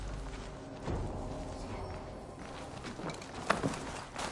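Horses galloping in Assassin's Creed Valhalla, a steady drumming of hoofbeats under a continuous rumbling bed of movement, with a few sharper thuds standing out near the end.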